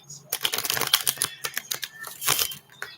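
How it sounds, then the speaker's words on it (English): Tarot cards shuffled by hand in a steady run of dense, crisp riffling clicks and flutters, close and fairly loud with brief pauses between bursts, no talking. "One more shuffle for Aquarius."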